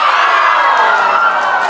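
A crowd at a girls' under-16 football grand final cheers and shouts in a loud, sustained swell as a floating shot heads toward goal.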